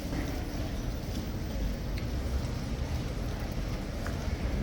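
Horses' hooves clip-clop on pavement among a crowd of tourists, a dense steady patter of hoofbeats under a busy murmur of background voices.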